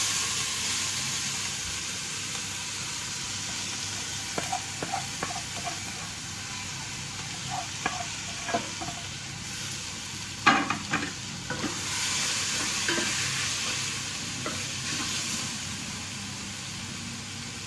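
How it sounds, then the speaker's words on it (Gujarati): Assorted vegetables sizzle in a pan of hot oil while being stirred, a steady close hiss broken by scattered scraping clacks of the utensil against the pan. "હવે આ બધું જ સોર્ટેડ વેજીટેબલ્સ હું આમાં એડ કરી દઈશ."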